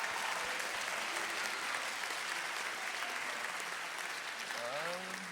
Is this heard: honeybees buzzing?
no